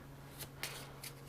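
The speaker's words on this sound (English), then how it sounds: "you would have shuffled up this deck" A deck of cards for the Forbidden Island board game being shuffled: three short, faint riffling bursts over a steady low hum, with no talking.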